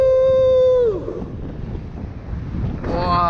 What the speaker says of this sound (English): the gust is getting strong